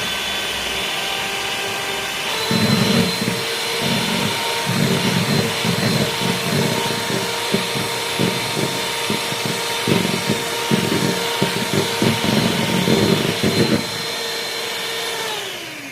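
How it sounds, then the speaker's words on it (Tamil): An electric mixer whips egg whites for a cake, a steady loud whirring hum with a busy, rattling texture that runs for about eleven seconds before winding down. No one speaks over it. "ஃபர்ஸ்ட் ஒயிட் எக்கை பீட் பண்ணிக்கலாம்."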